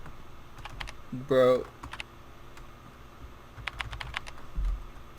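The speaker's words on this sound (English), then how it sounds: "The keyboard sounds bring back so much memories from back in the day." Keyboard clicks from a retro computer login screen in a video game, a short burst of rapid typing followed by a few scattered keystrokes, heard close and fairly clear, with a brief spoken word and a louder chime-like tone early on.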